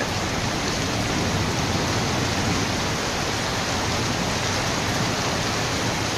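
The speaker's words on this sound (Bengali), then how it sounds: "এখন একটু বাতাস কমছে তারপরেও প্রচুর বৃষ্টি" Heavy rain pours steadily during a storm in a village as the wind begins to ease, producing a dense, loud, unbroken roar with no voices.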